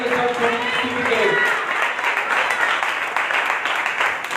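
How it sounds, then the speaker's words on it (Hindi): A church congregation breaks into loud, sustained applause in praise during a prayer service, with many hands clapping in a dense wash while a voice talks over the start. "हम जोरदार ताली के साथ प्रभु की स्तुति करें।"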